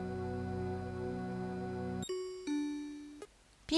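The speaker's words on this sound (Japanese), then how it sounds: "インターホンの音で急に我に返った。" An intercom doorbell chime rings out in a Japanese detective video game, a clear two-tone ding-dong heard after a sustained tonal drone, followed by a sudden abrupt noise at the end.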